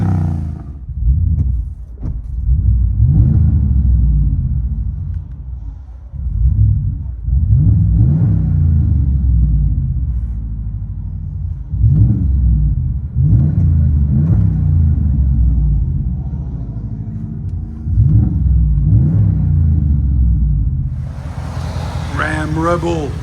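2020 Ram Rebel pickup with a 5.7L HEMI V8, Flowmaster Outlaw exhaust, stock resonators and 5-inch tips, rumbling loudly through repeated revs and settling back to idle, heard close from inside the cab.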